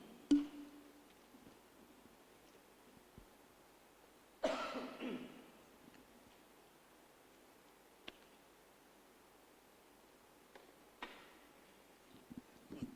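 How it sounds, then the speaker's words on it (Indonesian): One sharp, fairly close cough from a family member with an itchy, dry throat breaks an otherwise quiet room; faint ticks and rustles are the only other sounds. "kami sekeluarga ini lagi batuk"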